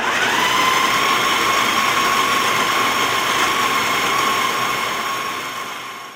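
An electric blender grinds parmesan cheese and roasted nuts in a home kitchen, giving a steady, loud motor whine that holds for several seconds before tapering off at the end.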